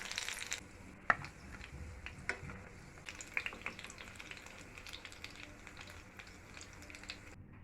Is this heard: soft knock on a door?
no